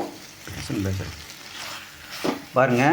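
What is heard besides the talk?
frying tomato, onion and curry leaves in oil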